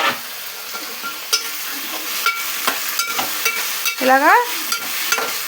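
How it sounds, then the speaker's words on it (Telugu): Onions and tomatoes with shrimp sizzle in a pan for a cauliflower curry, with soft frying crackle, scattered stirring clinks and scrapes, and a brief spoken word near the end. "ఇప్పుడు ఆనియన్స్, టమాటా వేసేసుకుందాం."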